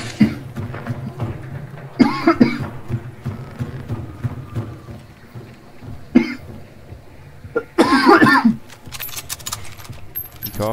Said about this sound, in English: This is just cutting out on my cough.